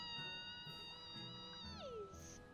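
Cartoonish cat meows in the video game Tales of Berseria, a single drawn-out, falling mew standing out over a steady bed of game music and ambience.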